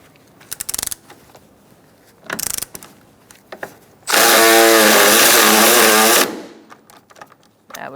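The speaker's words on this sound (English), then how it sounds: "Using a 13mm socket, we're going to remove our hold-down bolt." A 13mm socket driven against the battery hold-down bolt of a Fiat lets out a single loud, buzzing whir lasting about two seconds, after a few faint knocks and taps nearby.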